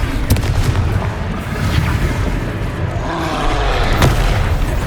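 Booming spell blasts from Confringo cast in Hogwarts Legacy, dense continuous explosive bursts with sharp cracks near the start and around four seconds, loud and close amid chaotic battle noise.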